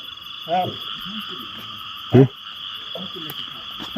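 Frogs croak at night in a few short, throaty bursts, one of them loud and close, over a constant high insect drone.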